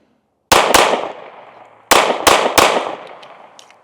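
Five sharp gunshots from a Smith & Wesson Shield Plus pistol, fired in 9mm and 30 Super Carry, come in two loud close bursts of two and three, each crack trailing off in a long echoing decay outdoors.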